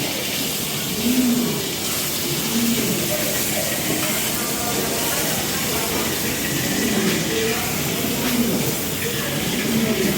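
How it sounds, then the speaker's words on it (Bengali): Pigeons, including Lahori and Sirazi breeds at a pigeon market, coo in low, repeated rolling calls over a constant busy background hum, several birds calling at intervals. "অনেক কবুতর আছে এখানে"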